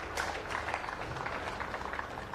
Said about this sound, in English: Can we give him a little clap